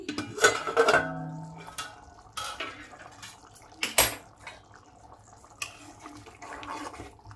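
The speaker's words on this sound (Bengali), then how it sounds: "5 মিনিট কম আঁচে রান্না করে নেবার পর আমি ঢাকনাটা খুলছি" The metal lid of a pot of Bengali rohu fish egg curry is lifted and handled, with a couple of sharp clanks and rattles among faint kitchen clatter and bubbling, close by and without talk.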